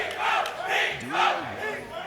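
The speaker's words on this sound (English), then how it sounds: "Crowd going crazy, rooting for hometown hero" A big crowd at a Guilty Gear Strive fighting-game tournament chants and roars in loud, rhythmic swells, a dense wall of voices rising and falling about three times.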